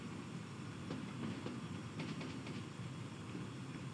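Train rumbling across a river bridge in Train Sim World 6 on the Mittenwaldbahn route, a steady low roll with faint clicks of wheels over rail joints, quiet and continuous, no talk.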